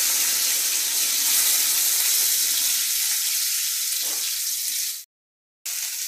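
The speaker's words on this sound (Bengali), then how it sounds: "তেল গরম হলে আমি একে একে সবজিগুলো দিয়ে দেবো। প্রথমে আমি আলু আর কলাটা দিয়ে দিলাম।" Potato and plantain pieces fry in hot oil with a steady, dense sizzle that runs loud and unbroken, then cuts out briefly before resuming.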